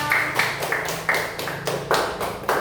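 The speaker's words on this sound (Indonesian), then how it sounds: "Tepuk tangan dulu untuk Risma." A classroom of children claps in unison for a classmate, a loud, close, steady rhythmic beat of about nine or ten synchronized claps with no speech.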